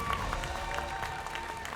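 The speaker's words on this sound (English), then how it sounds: "Please, let's give another round of applause to Zakiya Nicole." An audience at an awards ceremony gives a round of applause, a moderate wash of clapping with faint tonal background sound underneath, fairly even from start to end.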